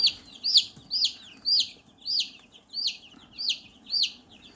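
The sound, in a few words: chicken clucking while being handled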